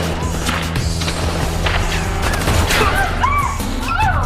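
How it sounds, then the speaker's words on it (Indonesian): Gunfire from a shootout in the action film Crank: a dense, busy film mix of rapid shots, crashes and impacts under a steady loud soundtrack, with sharp bursts scattered throughout and no clear pauses. "hingga terjadi baku tembak di lokasi itu"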